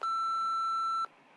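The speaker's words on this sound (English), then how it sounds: "that got bleeped out." A single steady censor bleep covers a word in a reality TV recap, one clean sustained electronic tone lasting about a second before cutting off to quiet.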